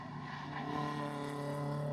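BMW Compact Cup race cars pass through a chicane on a Scottish circuit, with several engines droning at steady high revs and a sustained tonal whine, loud and close, with no voices heard.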